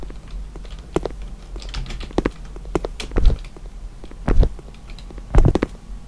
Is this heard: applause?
no